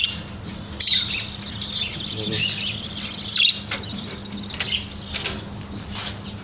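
Small birds chirping and calling around a fruit tree where chicks sit in the nest, a steady busy chatter with scattered sharper tweets and occasional brief flutters, fairly close.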